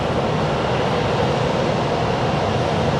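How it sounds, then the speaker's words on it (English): A jet airliner idles on the apron at Sky Harbor International Airport before taxiing, giving off a loud, steady, unbroken engine roar with no voices. "And then this plane is about to taxi off."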